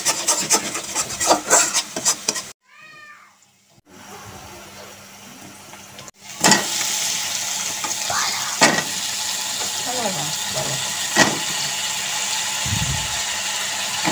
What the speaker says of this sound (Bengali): এবার দিয়ে দেবো আমরা বেগুন আর আলু। এটাকে ভালো মতো মিক্স করে নেব।